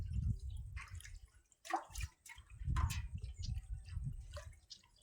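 Water sloshing and dripping in a cooking vessel while mutton curry is prepared, soft near splashes and trickles with brief pauses, a low rumble underneath.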